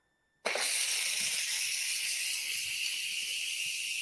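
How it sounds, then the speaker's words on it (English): Steam bursts from a pressure cooker's quick-release knob while cooking spicy peanut soup with sweet potatoes, starting abruptly after a moment of quiet and then a loud, steady close hiss that holds without fading. "So when I turn the knob and release the steam"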